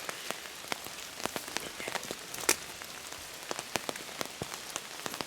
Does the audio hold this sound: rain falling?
yes